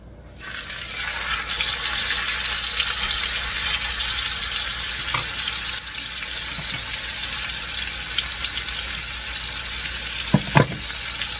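Pork steaks sizzle steadily in a hot pan, a loud continuous frying hiss that starts abruptly and holds throughout, with a few faint clinks near the end.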